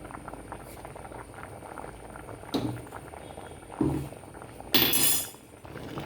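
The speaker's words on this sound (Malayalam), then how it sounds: "ഇനി ഇത് നന്നായിട്ട് തിളയ്ക്കട്ടെ." Vegetable curry with salt and turmeric bubbles in a pot, a soft continuous simmer broken by three louder bursts of clattering and scraping, with metallic clinks against the pot.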